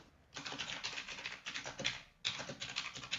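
Code being typed on a computer keyboard, quick bursts of crisp close key clicks separated by short pauses, steady and rhythmic with no talking.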